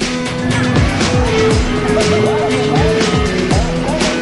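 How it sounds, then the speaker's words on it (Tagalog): 4x4 off-road trucks race along bumpy, climbing dirt roads at an off-road challenge in Kawayan, Isabela, engines revving hard and rising and falling in pitch as they charge past, loud and close throughout. "Sa mga lubak-lubak at paahong mga daang ito, humarurot ang mga sasakyan."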